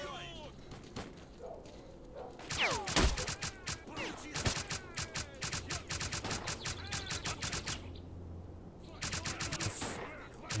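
Rapid bursts of automatic gunfire and single shots from STALKER Clear Sky, loud sharp volleys in clusters with short pauses, over a low game ambience with some voice underneath.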